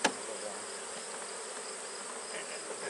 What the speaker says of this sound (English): Just a lot of pollen and quiet bees.